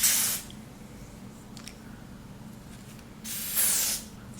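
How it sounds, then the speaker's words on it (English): Lace spray is misted onto a 30-inch straight lace frontal wig in two short, hissing bursts, one at the start and one near the end, with quiet between them. "glue this wig down with a little lace spray"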